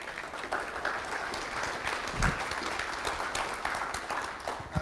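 A cannabis patient support group audience gives moderate, continuous applause with a few louder claps standing out near the end.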